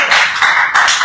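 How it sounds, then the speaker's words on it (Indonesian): An audience claps at a live speaking event, producing loud, dense applause that runs continuously with a couple of brief surges. "Tepuk tangan dulu."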